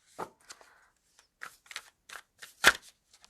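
Deck of cards shuffled by hand, a few short crisp riffling bursts separated by quiet pauses, close and soft.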